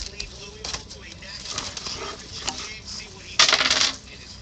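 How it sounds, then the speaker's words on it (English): Two six-sided dice rattle and clatter on a hard surface, a quick tumbling burst near the end after lighter taps, close and loud. "Two six-sided dice."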